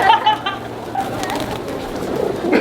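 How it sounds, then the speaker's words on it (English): A flock of pigeons coos and flutters close around people in San Juan, Puerto Rico, with soft overlapping calls and wing rustles, fairly loud and near, with brief voices in the background. "look at all the birds. That's a lot of birds."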